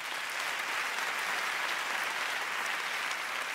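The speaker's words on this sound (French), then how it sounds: "ce qu'on peut applaudir" An audience applauding an evening concert, a dense, steady wash of clapping sustained throughout.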